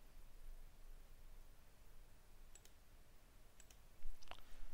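A few faint mouse clicks sound during a Linux installation in VirtualBox, three or four brief ticks in the last two seconds, sitting under a steady hiss with no talking.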